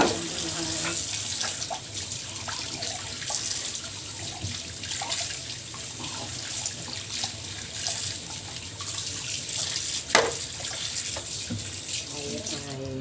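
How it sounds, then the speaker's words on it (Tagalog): Dishes being washed under a running tap, steady close water flow with intermittent clinks and knocks of plates, and a sharper clatter near the end. "Hugas ng plato."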